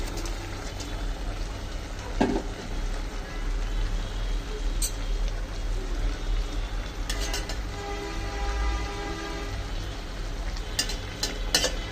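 Shing catfish going into a frying pan with greens (lau shak), giving a steady close sizzle and hiss of frying with a few sharp spatters and stirring scrapes, no talking.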